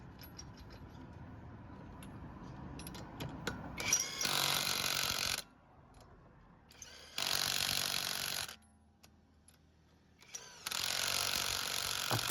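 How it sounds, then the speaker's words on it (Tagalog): An impact wrench with a size 21 socket tightens the wheel nuts on a Toyota Vios: three loud, sustained buzzing bursts, each a second or two long, separated by quieter pauses with faint background noise. "gagamit ulit tayo dyan ng impact wrench na may socket na size 21"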